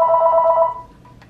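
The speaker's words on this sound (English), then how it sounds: "now we're going to call the house phone and see how the answering machine works" Panasonic Link2Cell KX-TGE475S cordless house phone ringing with a steady electronic ring tone that fades after about three quarters of a second, followed by a faint short chirp, with no talk.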